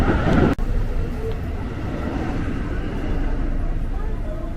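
KRL commuter train rolling into Tebet station, a steady low rumble and rail noise filling the space from start to finish, with a sharp clunk early on and no talk over it.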